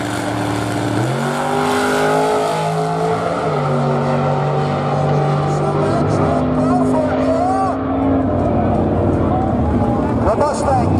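A Ford F100 pickup truck and a Mustang launching at a drag strip, loud roaring engines climbing through gears with squealing tires and rising, shifting whine over a long run, with an announcer talking throughout.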